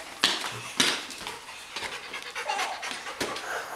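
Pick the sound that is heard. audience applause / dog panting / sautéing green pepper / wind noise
dog panting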